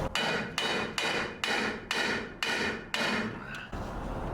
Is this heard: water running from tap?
no